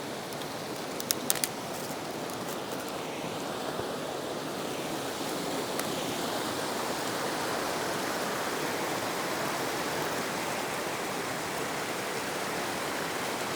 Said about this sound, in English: Nice little water, I guess you could call it a waterfall.